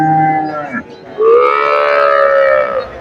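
Australian cross heifers at a cattle market: one close, loud moo is cut short, then a longer, drawn-out bellow rises and holds before fading.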